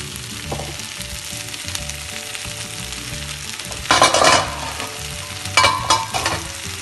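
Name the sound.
stirring spiced aubergine rice mixture in a pan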